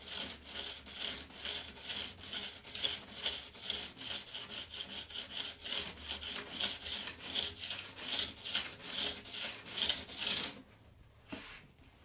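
A diamond stone is filed back and forth along a burr on a snowboard's steel edge, giving steady, rhythmic rasping strokes, close and fairly loud, that continue for about ten seconds before stopping.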